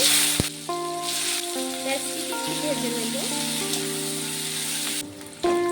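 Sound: onion frying in oil

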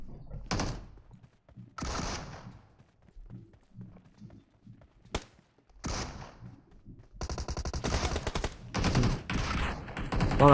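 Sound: gunfire from behind in a video game shooter

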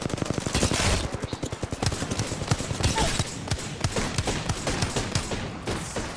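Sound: gunfire in Apex Legends video game

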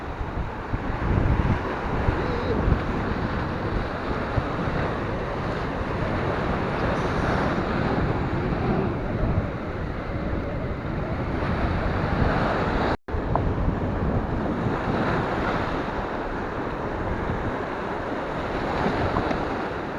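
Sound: wind

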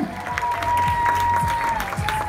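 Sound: audience applause for Rebecca's act

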